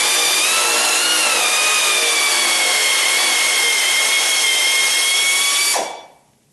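Power tool whining steadily on a bolt through the transmission cross member of a 1976 Corvette, a loud continuous close drone that holds for several seconds and then cuts off abruptly, leaving near silence.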